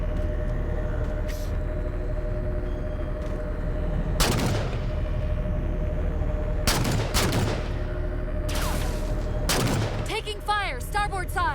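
Halo 4 combat with bursts of weapon fire at intervals over a constant low ambient drone, with a short electronic warble near the end.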